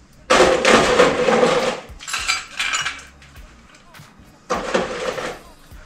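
Ice rattling and clinking in two small coupe glasses being chilled for a Cognac Sour, three bursts of close, bright clattering separated by short pauses.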